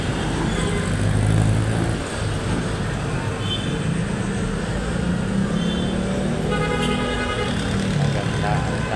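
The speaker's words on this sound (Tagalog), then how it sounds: "Daloy ng trapiko." Steady night road traffic flows through Quiapo, Manila, a continuous wash of passing cars and engines with an occasional faint horn, loud and close without pause.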